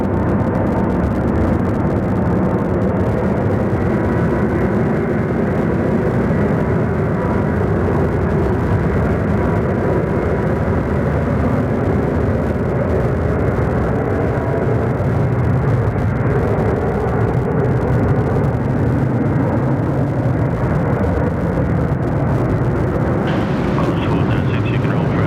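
Jet engine roar from an airliner departing Sydney Airport, a loud, steady broadband rumble lasting throughout, heard from a distance with some voices talking in the background.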